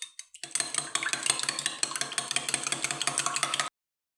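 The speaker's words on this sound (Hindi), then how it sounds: "इन अंडों को हम अच्छी तरह फेंटेंगे।" Eggs are whisked briskly in a bowl: fast, rhythmic metallic clinks and scrapes at close range for about three seconds before stopping abruptly.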